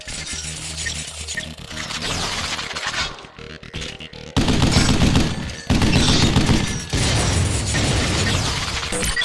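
A weapon fires in the third-person shooter game Vanquish. Loud rapid bursts of gunfire mix with mechanical clanks and crashes, dense and close, with short gaps between volleys.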